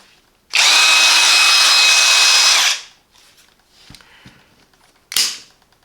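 A Parkside Performance 20V cordless drill driver (PBSAP 20-Li A1) spins up loudly for about two seconds with a steady high whine, then winds down, followed by faint handling clicks and a brief second burst.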